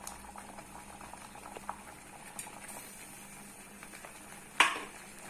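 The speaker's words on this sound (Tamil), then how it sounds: "நல்லா கொதிச்சிருச்சு." Liquid boiling in a pot on the stove during cooking, a soft, steady bubbling patter with faint clinks and one brief sharp metallic tap near the end.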